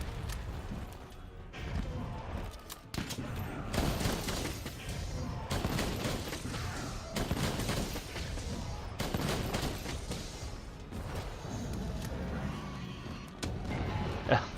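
Light bowgun firing thunder ammo in a Monster Hunter battle against a tempered Kushala Daora, heard as dense, rapid gunfire-like bursts with game effects throughout, moderately loud and continuous with brief pauses.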